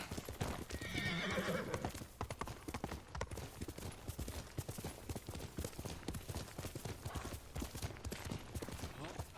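Horse in a samurai-era action video game, hooves clip-clopping in a quick steady rhythm close by, with a loud neigh early on and the galloping continuing throughout, no talk over it.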